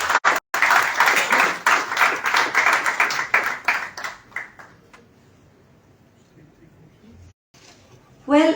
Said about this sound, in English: I think it deserves another round of applause